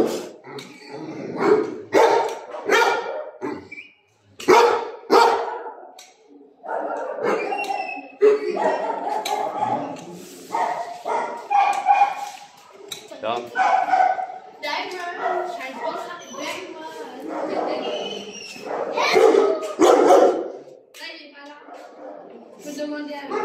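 Several dogs bark in bursts at an animal shelter, loud and close, mixed with people talking nearby.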